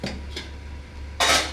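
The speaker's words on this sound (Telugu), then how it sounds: "ఇప్పుడు తాలింపు కోసము కడాయి పెట్టేసుకున్నాను" A kadai pan set down on the stove for tempering, faint metallic taps followed by a sharp, bright clank of metal near the end, close by.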